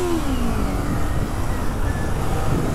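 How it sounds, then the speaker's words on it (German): Audi A8 engine revved hard to the rev limiter from cold, a loud sustained roar heard from inside the car, steady throughout with a rising tone early on. "Auch sehr gut, dass ich auf kaltem Motor einfach bis zum Begrenzer gedreht"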